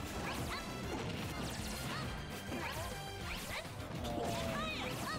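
Forward smash attacks landing in a Super Smash Bros. match between Incineroar and Ness at a tournament, heard as repeated sharp crashing impacts and whooshes over constant busy game noise and music.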